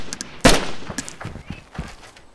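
Rifle shot from a Mosin-style rifle in the video game DayZ, one sharp loud crack followed by a few fainter trailing shots and thuds, no talk.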